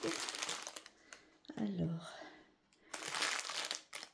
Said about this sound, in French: Alors ça arrive dans du papier bulle